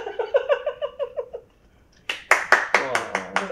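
Clapping from a few people on a cooking show, a rapid run of claps followed by a short pause and then a second burst of louder, sharper claps, with voices mixed in.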